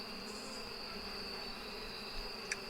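Bees buzz in the APICO video game as a steady, even drone that holds for the whole stretch, with a faint click near the end and no voices.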